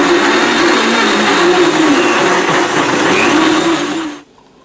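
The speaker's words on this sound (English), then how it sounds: "Blend this on high for" A blender runs on high, blending apple juice, raspberries, banana and walnuts into a smoothie, a loud steady whirring drone that holds evenly for about four seconds before cutting off abruptly.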